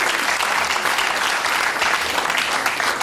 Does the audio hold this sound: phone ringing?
no